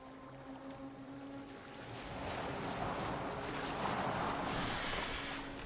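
A boat sailing on open water in Assassin's Creed Valhalla, with wind and waves rushing steadily and growing louder midway, a continuous wash of surf and breeze with no talking.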